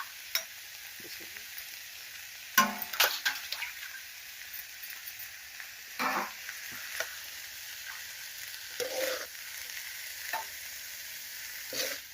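Onion and chopped wild sarata greens frying in a pan: a soft, steady sizzle runs throughout, broken by louder scraping clatters of stirring at irregular intervals, with no voices.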